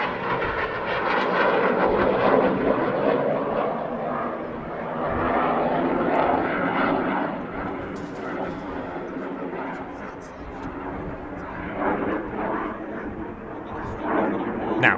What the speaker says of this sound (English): Lovely derry turn here, rolling one way, then turning the other.